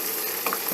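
Onions sautéing in a pan with a steady close sizzle and a brief stirring scrape near the end, no voices.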